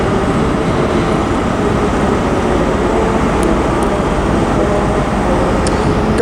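Class 385 electric multiple unit 385037 at Glasgow Queen Street station, bound for Stirling, giving a steady, close rumble and hum with no clear breaks, plus a few faint high squeaks near the end.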